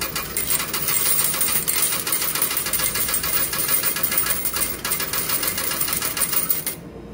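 Coins drop in quick succession into a coin slot of a large laundromat washing machine, a loud dense metallic clatter and jingle that runs steadily for several seconds, then cuts off abruptly.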